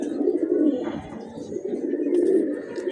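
Giribaz pigeons coo close by in soft, throaty rolling phrases, two bursts separated by a brief pause, with no talk over them.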